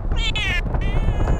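A cat-like meow from a player in the modded survival game Rust, a close, loud pair of whiny meows in quick succession over low game rumble.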